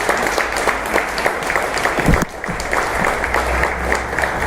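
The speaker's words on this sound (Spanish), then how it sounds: "Más fuerte el aplauso porque la verdad se lo merece." A live audience applauds steadily at a Mexican cultural gathering honoring a doctor, dense clapping sustained throughout with a brief dip midway before resuming at full strength.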